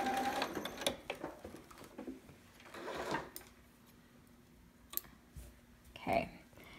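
Sewing machine running in short bursts as it back-stitches, stitches forward and back-stitches again across the fabric of a bell sleeve romper, with soft clicks between runs and low talk over the top.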